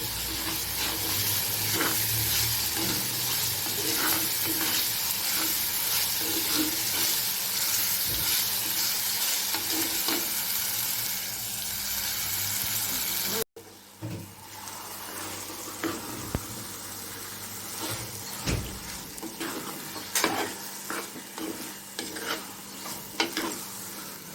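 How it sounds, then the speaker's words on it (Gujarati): Baingan bharta, a mashed eggplant dish, stirred and frying in a pan, with a steady close sizzle and repeated scraping strokes throughout, a brief break midway, then quieter stirring and sizzling. "સરખી રીતે ચલાવતા રહીશું"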